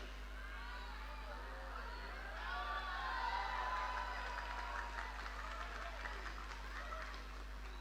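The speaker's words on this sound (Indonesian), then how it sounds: "Kok kamu tepuk tangan?" An audience claps and cheers at an outdoor Sedekah Laut sea-offering ceremony at a fish auction site, mixed with crowd chatter over a steady low hum, moderately loud and swelling slightly in the middle.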